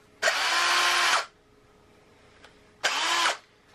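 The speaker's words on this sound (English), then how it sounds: "I'm gonna go ahead and drill this open so the rod will fit through it." A handheld drill bores a hole with a bit, sized toward 3/8 inch, while fabricating a front supermoto axle slider for an Alta Redshift SM; two loud whirring bursts, the first about a second long and the second shorter, with quiet between.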